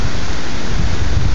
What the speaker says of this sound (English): that roar you hear, that's the wind